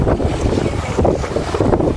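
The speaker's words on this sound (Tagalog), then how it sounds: "At grabe yung alon." Big waves at the seafront in Rovinj, Croatia, surging and washing in loud repeated swells under heavy wind buffeting, with no one speaking.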